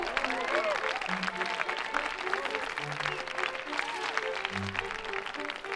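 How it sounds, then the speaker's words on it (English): A video game crowd cheers and applauds in a steady, dense roar that lasts throughout, with a narrator's voice and light musical tones over it. "the cheers of the crowd went to Hobart's head"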